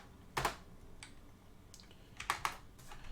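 Keys clatter on a computer keyboard in a few quick bursts of close clicks with short pauses between, quiet and with no talking.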